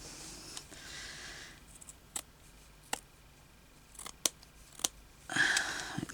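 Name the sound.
scissors cutting fabric for a sewn thimble bag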